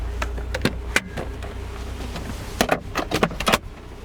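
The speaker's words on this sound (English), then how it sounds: "the Mazda MX-5 has one of the fastest operating soft tops in the world" Power soft tops on a 2023 Mazda MX-5 and a 2001 Honda S2000 cycle during a timed race, with clicks, latch clunks and a low motor hum across a few seconds, plus a burst of sharp mechanical clatter near the end.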